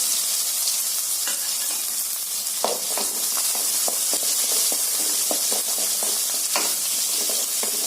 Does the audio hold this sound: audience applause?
no